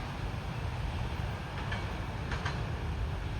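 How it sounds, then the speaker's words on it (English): An SD-class diesel locomotive rolling past trackside, a steady low rumble with faint metallic squeals briefly rising midway, continuous and fairly close with no talk. "I like that locomotive."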